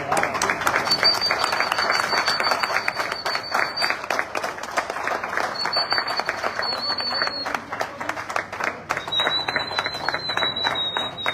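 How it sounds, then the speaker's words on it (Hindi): Loud applause from a gathered crowd during a garlanding at a car delivery ceremony at a showroom, sustained dense clapping with a whistle-like tone drifting above it and some voices mixed in. "और जब तक माला पहना जाए तब तक जोरदार तालियां होनी चाहिए।"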